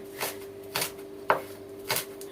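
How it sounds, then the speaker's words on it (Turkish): A kitchen knife chops washed fresh mint leaves into small pieces on a board, four separate crisp cuts spaced about half a second apart, close up, with a steady faint hum behind. "Nanelerimi de yıkadım. Hemen onları da şöyle ufak ufak yine doğruyorum."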